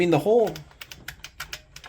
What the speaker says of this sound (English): It's kind of like typing on a typewriter.